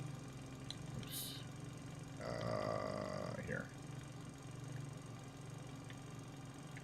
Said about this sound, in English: The engines coming on.